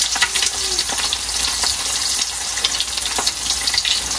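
Loud, continuous sizzling and crackling of bananas frying in hot oil, close by and steady throughout.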